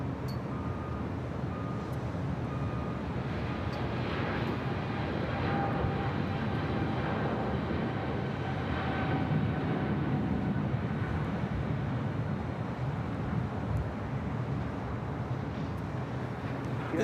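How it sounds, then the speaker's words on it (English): A China Eastern Airlines Boeing 777-300ER takes off from LAX bound for Shanghai, its engines a sustained rumbling roar that swells slightly mid-way, heard at a distance with some wind buffeting. "This is China Eastern Airlines 586 taking off to Shanghai on the 777-300ER"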